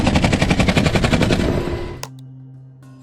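Guns fire in a loud, fast automatic burst, like Navy officers shooting at a shark. The rapid shots run for about two seconds and then stop abruptly, leaving a faint tonal hum.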